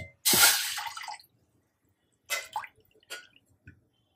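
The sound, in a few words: pouring water into pot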